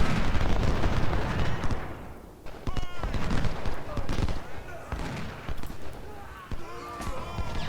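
Troops opening fire in the Civil War strategy game Ultimate General: Civil War, a dense battle din of rattling musketry and booming artillery with repeated sharp cracks, loud and continuous, briefly dipping before surging again.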